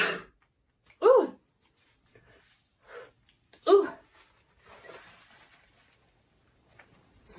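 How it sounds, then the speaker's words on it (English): An allergy-prone person sneezes several times in sharp, separate bursts spread across the moment, with quiet breaths between them and a brief exclamation. "I'm having another sneeze attack."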